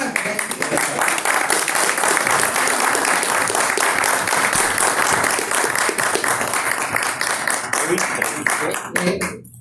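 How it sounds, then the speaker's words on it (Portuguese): Sustained audience applause fills a book talk on art, with dense clapping that stays loud and steady for nearly ten seconds before it begins to fade at the very end. "Essas palmas são para vocês dois aí."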